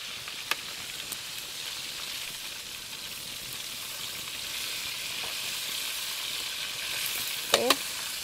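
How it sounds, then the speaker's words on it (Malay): Shrimp frying in hot oil in a home kitchen, a continuous dense crackling sizzle at a steady level, with a couple of sharp clinks and a brief scrape of stirring near the end. "Okey, minyak dah panas. Ready untuk kita goreng udang."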